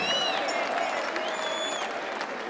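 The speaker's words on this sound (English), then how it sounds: "Let's get a big Paramount round of applause." Boxing crowd applauding after a ten-round fight, a steady wash of clapping with scattered whistles and cheers, fairly distant and sustained throughout.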